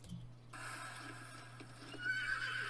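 A Shire horse in a horse video game neighs in a long, bright whinny that rises toward the end, with soft hoof clip-clops beneath it and no one speaking.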